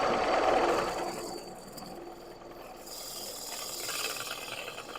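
A woodturning gouge rides its bevel on a spinning workpiece on the lathe, lifting a light shaving with a steady, close, scratchy hiss that swells briefly at the start and then continues evenly, with no talking.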